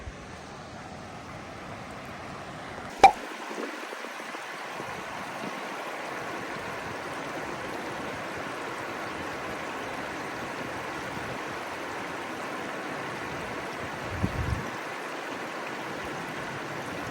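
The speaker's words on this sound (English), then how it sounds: "I want to get some level shots of this water flowing." Water flows steadily at Taughannock Falls in a gorge, a constant broad rushing roar from a distance. A sharp knock comes early on and a brief rumble near the end, with no talk.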